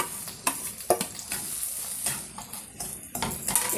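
Semolina being stirred and frying in ghee with a little oil in a pan while making kesari, giving a steady sizzle broken by repeated scraping stir strokes, close and fairly loud, with no talking.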